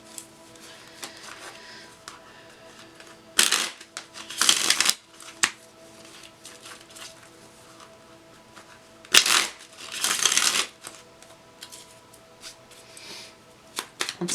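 Tarot cards are shuffled by hand in two separate bursts of quick riffling and flapping, each lasting about two seconds, with quiet handling between them and no speech.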